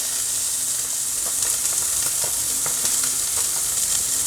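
Catfish pan-frying beside vegetables in hot oil makes a loud, continuous close sizzle with popping crackles throughout, with no voices.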